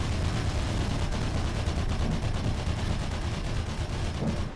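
Dense, continuous enemy gunfire in Mirror's Edge, a rapid barrage of shots that runs steadily through the whole stretch with no break.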